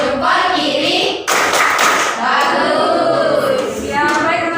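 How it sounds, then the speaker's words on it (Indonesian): Classroom students doing a rhythmic thumb-clap chant for a classmate, loud dense clapping with voices mixed in throughout. "Kita berikan tepuk jempol untuk Iqmal."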